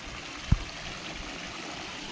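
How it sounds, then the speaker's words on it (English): A waterfall pours into the upper pond of a lake house garden, a steady, fairly soft broadband rush of flowing water with one brief thump early on. "So this waterfall should look like this in the upper pond."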